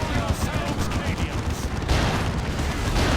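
The Foot of Gork ability hits in Dawn of War as a dense, continuous roar of explosive crashes and booming blasts, loud and sustained through the whole moment, with battle noise packed close together.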